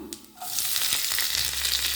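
Onions and curry leaves hiss and sizzle steadily in hot oil, a bright crackling fry that starts with a soft clatter and then holds.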